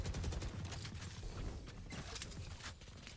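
Gunfire rattles through a Valorant esports tournament semifinal match, with dense bursts of shots and rapid automatic fire, moderately faint and continuous.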